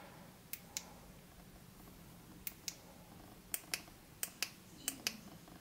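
Sharp clicks of the Xtar WK42 Sirius CR LED flashlight's switch, about ten crisp close-up clicks arriving in pairs with pauses between, alone over a quiet background.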